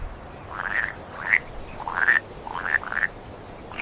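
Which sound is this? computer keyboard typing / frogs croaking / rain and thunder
frogs croaking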